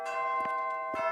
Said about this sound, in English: I'm gonna wait for the bell to finish.